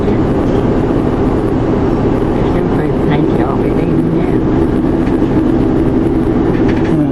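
A train hauled by three Class 47 diesel locomotives crosses the Bedford levels, heard from on board as a loud, continuous rumble and drone from the carriages.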